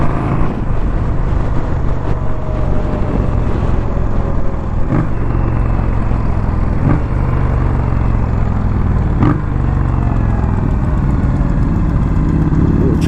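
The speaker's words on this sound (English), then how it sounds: "motor making a little bit of noise" A 2021 Indian Scout Bobber motorcycle engine runs close by, a steady deep rumble with faint periodic clicks and a slight rise in pitch toward the end.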